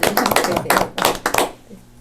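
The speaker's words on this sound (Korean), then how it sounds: "우리 두 분께 다시 한번 감사와 격려의 박수를 올려드립니다" Audience applause at a Korean-language special interview event, a short burst of dense clapping that fades out after about a second and a half.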